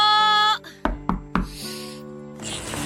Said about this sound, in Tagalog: Sino kaya yung kumakatok sa labas?